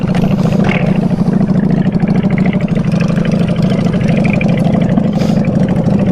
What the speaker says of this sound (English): How loud my bike is looking freaks me out.